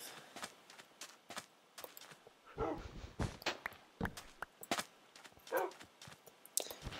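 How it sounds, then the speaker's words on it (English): Dogs fight zombies in the Minecraft video game, with a rapid scatter of short in-game hits, yelps and footsteps, fairly faint and busy throughout. "Dogs killing zombies."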